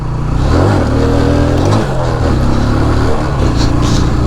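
A motorcycle engine revs hard during a wheelie, a loud, close, continuous roar that rises and falls in pitch with the throttle across the whole stretch.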